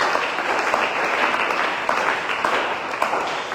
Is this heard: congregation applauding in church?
yes